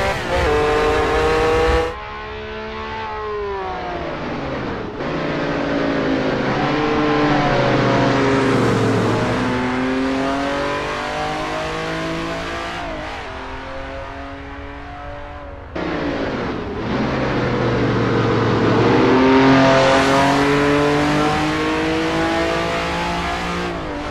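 A Ferrari 512 TR's engine revs hard while driving, climbing through the gears with sharp drops at each shift and rising again, loud and close from inside the car, with no voices.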